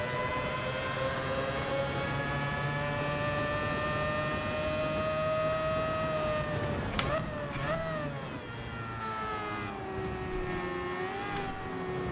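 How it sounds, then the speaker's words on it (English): An LMP prototype race car in Gran Turismo 7 at Circuit de la Sarthe gives a sustained, droning engine note whose pitch rises and drops sharply midway as it passes, loud and continuous throughout. "That's somebody in an LMP."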